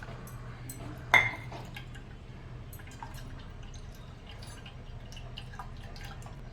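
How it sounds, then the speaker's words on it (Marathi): Tamarind and jaggery water for pani puri trickles and drips as it is strained in a kitchen, with one sharp clink of a utensil early on over a low steady hum; no one speaks. "चांगलं मिक्स करून मग आपण आता हे पाणी गाळून घेणार आहोत."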